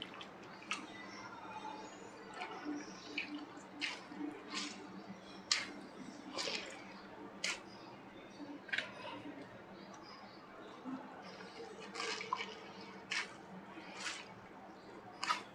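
Grated raw potatoes being washed by hand in a bowl of water, faint wet squishes and small drips in an irregular sequence, quiet and close.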